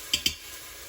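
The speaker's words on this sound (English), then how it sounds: "Ooh, listen to that sizzle." Sun-dried tomatoes and garlic hitting hot oil in an Instant Pot give two quick sharp sizzling bursts, then a soft steady hiss, close and fairly quiet.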